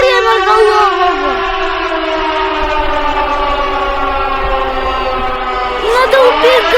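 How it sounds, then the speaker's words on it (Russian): Civil defense siren wailing loudly and steadily, a sustained rising-and-falling harmonic tone that swells again near the end, with voices underneath. "Ты бы еще бы сказал, что ты звук сирены услышал."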